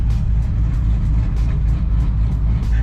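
Loud, cammed Chevrolet Camaro ZL1 V8 muscle car, a heavy lopey low rumble pulsing steadily up close, continuous throughout.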